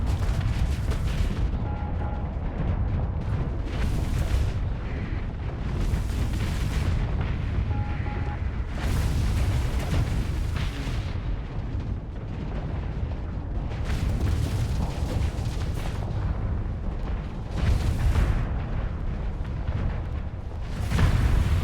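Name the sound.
Rift Torpedo launching in pirate video game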